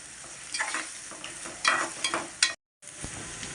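Three small onions sizzle and fry in a pan, stirred in bursts of crackling and scraping that rise and fall, broken by a brief silent gap before the frying resumes.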